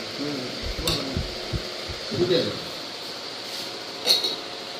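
Pointed gourd fries in a pan with a constant hiss of sizzling oil and a few utensil clinks, close by, while a person talks over it.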